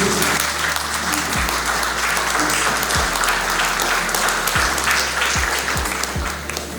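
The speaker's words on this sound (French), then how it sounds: "Applaudissez." Applause from an audience at the official launch ceremony of a private business sector organisation, a dense, loud, continuous wash of clapping with a few low thuds scattered through it.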